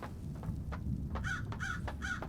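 Harsh crow caws in the video game Paradise Killer repeat in a rough series of three or four calls, moderately loud over a low background rumble.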